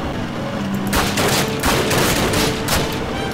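Rapid bursts of gunfire in a video game shootout, several loud cracking volleys in quick succession, close and sharp.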